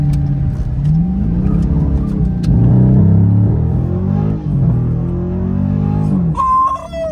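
A Dodge Scat Pack's engine revs hard and close by, with loud, rising and falling throaty roars across several seconds and a high whine near the end.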